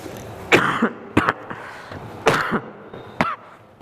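Several harsh coughs come in short bursts, spaced a moment apart, close and fairly loud with quiet pauses between.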